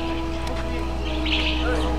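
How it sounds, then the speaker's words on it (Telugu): Birds call at Almaty Zoo Park, a few faint chirps over a steady low hum, with a brighter burst of calls partway through. "ఏం పక్షులు, ఏమి పక్షులు కదా ఇవి"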